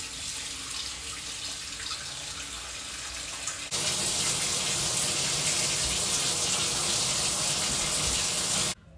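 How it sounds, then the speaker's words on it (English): Hot water running from a bathroom tap into a sink, a steady hiss that suddenly gushes louder when the flow is turned up, then cuts off abruptly at the end; a voice speaks briefly. "Get a rag and turn on the water and make sure it's hot water."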